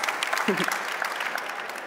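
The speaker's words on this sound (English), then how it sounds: "Yes, round of applause." A conference panel audience gives a short, dense round of applause with a brief voice mixed in near the start.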